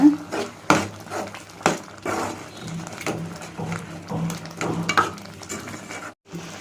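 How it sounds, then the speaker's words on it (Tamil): A thick pot of boiled-down lentils for paruppu kadaiyal bubbles and spatters with irregular pops and thuds, close by, occasionally stirred. "ஆனால் தண்ணி வற்றுனதுக்கப்புறம் இந்த மாதிரி கொதிக்கும்போது தெரிக்கும்."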